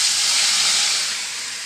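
Water is poured into a hot cooking pan and bursts into a loud, close hiss of steam that fades slightly toward the end, with no talking.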